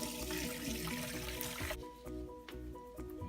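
Chicken bone broth poured through a fine sieve, a steady liquid rush and trickle at close range that thins into lighter dribbling and splashes midway.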